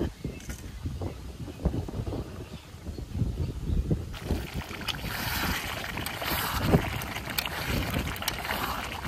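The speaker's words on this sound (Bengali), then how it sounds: "কি পরিমাণ যে বাতাস ছাড়ছে," Strong wind buffets and roars across the microphone, rumbling low and growing louder and hissier in the second half.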